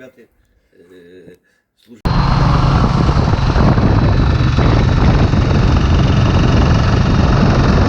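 A KMZ Dnipro 300 diesel motorcycle engine fires up after a brief quiet moment, then runs loud and steady, a rough continuous drone close by, during its break-in run.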